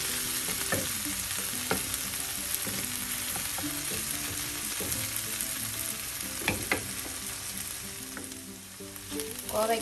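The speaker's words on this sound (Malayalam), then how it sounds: "ഇനി തുറന്ന് വെച്ച് നമുക്ക് ഒരു മൂന്ന് മിനിറ്റ് ഫ്രൈ ചെയ്യാം" Ivy gourd sizzles steadily in an open pan as a Kerala-style stir-fry, a close, moderate crackle broken by occasional clinks and scrapes of stirring.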